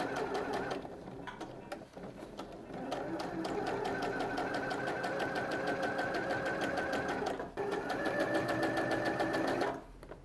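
A sewing machine stitches along the edge of a dress, attaching the back facing in one steady, rapid run of needle strokes with a brief pause midway, close and clear before it stops.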